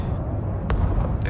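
Artillery firing in the video game Broken Arrow, deep heavy low thumps with a couple of sharp cracks, close and loud under game noise.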